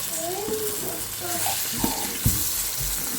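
Eggs frying in a pan with garlic and chili masala, Godavari-style home cooking, giving a soft steady sizzle with a few stirring clatters and scrapes.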